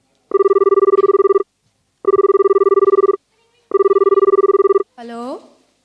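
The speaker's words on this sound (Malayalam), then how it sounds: "ഒന്ന് വിളിച്ചു നോക്കാം." Telephone ringback tone during an outgoing call in a Malayalam church skit at a talent night: three loud, steady buzzing rings with short gaps, followed by a brief rising electronic chirp as the line connects.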